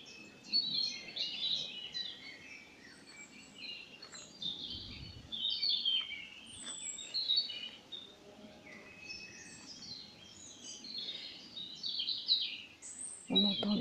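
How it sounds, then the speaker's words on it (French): Several birds chirp and trill outdoors in the countryside on a sunny spring day, a steady chorus of bright, high calls, with a soft background hum, an occasional low thump, and cows somewhere in the distance. "On entend les vaches au loin, les oiseaux chantent."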